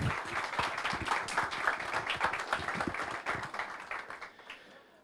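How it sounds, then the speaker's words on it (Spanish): An audience at a developer event applauds the speakers, a dense burst of many hands clapping at moderate loudness that thins out and fades over the final second. "Así que un aplauso para ellos"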